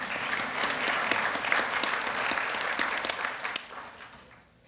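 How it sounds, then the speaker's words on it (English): Audience applause at a state high school athletics awards banquet honoring coaches of the year, a steady crowd of clapping hands that holds evenly, then fades out near the end. "You may clap."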